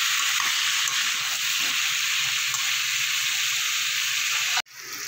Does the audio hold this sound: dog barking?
no